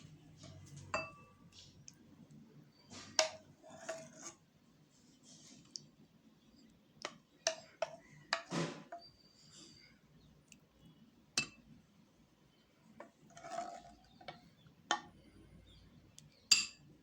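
Rasagullas being moved into a bowl give a scatter of light, sharp clinks and clicks of spoon against dish, spaced irregularly over a quiet background with no talking.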